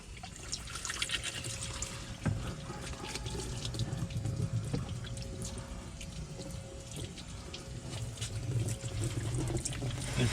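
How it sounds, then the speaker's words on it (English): Pressurised water rinses the Armorlite flooring in a Jeep Wrangler JKU, a continuous close splashing hiss with trickles and small knocks, steady throughout with no talking. "gotta be careful with the water pressure"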